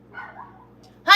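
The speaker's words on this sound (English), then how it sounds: "Who are you barking at?" A faint dog whine or soft bark at first, then a sudden louder bark bursting in at the end.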